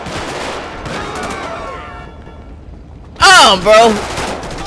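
Gunfire breaks out at police officers during a GTA 5 street scene, a dense crackle of shots spread through the first seconds under background game noise, followed by loud shouting voices.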